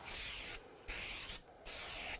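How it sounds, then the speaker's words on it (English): Shellac-based spray primer hisses from an aerosol can onto the detail of a kitchen cabinet door in three steady bursts of about half a second each, separated by short pauses, close and fairly loud. "you can use this as a spray primer just for the detail"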